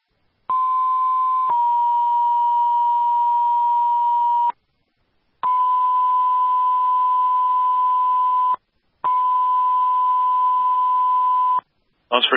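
A fire dispatch evacuation alert tone for a two-alarm house fire in Chesterfield, New Hampshire: long, loud, steady electronic beeps repeat in three sustained bursts separated by short silences, ending with a brief burst of radio noise.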